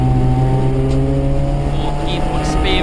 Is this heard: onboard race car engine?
yes